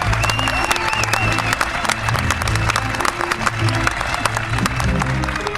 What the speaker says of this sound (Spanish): ¡Que la Plaza de España aplauda Terrores Nocturnos,